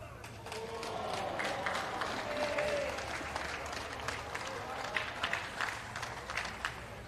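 Crowd at a lawn bowls grand final (Warilla vs Cabramatta, 4-a-side) breaks into sustained cheering and applause, steady and fairly close, with scattered sharper claps near the end.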